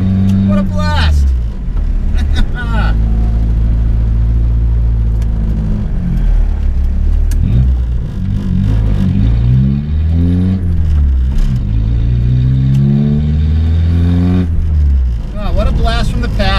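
A Mk1 VW Rabbit Diesel accelerates hard on a wet road, its engine droning loud and steady with rising and falling pitch through gear changes, heard from inside the car under continuous talking.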